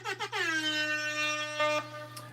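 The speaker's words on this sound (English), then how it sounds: "I know some people are annoyed by the air horn" One loud, sustained blast of an air horn, pitched high and slightly wavering, holds for about two seconds and then cuts off. A steady low hum sits underneath, and no one speaks.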